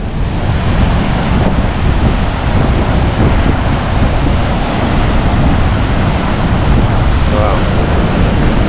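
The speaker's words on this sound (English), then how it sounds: "See, the breakers are about 10 to 11 feet. Breezy." Steady roaring surf and strong wind buffeting the microphone on the Humboldt coast, with breakers around 10 to 11 feet, loud and continuous throughout with no distinct pauses.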